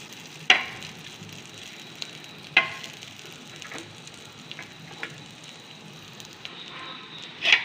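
Small anchovy fish fry in hot oil with a steady, soft sizzle throughout, punctuated by a few sharper crackles and pops spaced a couple of seconds apart, close by with no talking.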